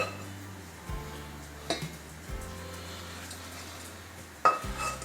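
A pot with a handle is tossed in to be washed, giving a few sharp clanks and dish clatters over a low steady hum, fairly quiet and without talk.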